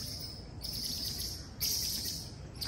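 Small animals squeaking in a tree at a hotel in Mexico: a steady high chirping and squeaking texture, with one brief louder swell, against soft background noise.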